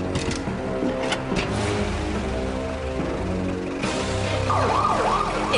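A wailing ambulance siren sweeps up and down, fairly close, over busy traffic and engine noise.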